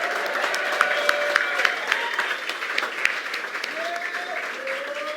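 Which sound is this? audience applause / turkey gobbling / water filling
audience applause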